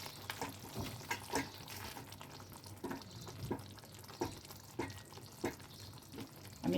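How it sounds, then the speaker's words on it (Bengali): A spoon stirs through chicken curry garnished with chopped coriander in a pan: soft, close scraping strokes at a slow, even pace over a faint bubbling simmer, quiet overall. "চিকেনটাও খুব সিদ্ধ হয়ে গেছে খুব ভালো করে। একটু নাড়াচাড়া করে নেব।"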